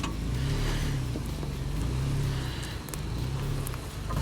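A vehicle engine holds a steady, loud drone as it works to climb out of sand on traction boards, with the throttle kept even throughout and no voices.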